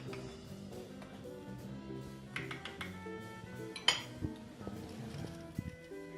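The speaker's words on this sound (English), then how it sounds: "We're going to take a plate and we're going to take a cup. Spoon some of this in there." Plate and cup clinking while churro balls are plated, with scattered light ceramic knocks, spoon taps and one sharper clink, all close and fairly quiet.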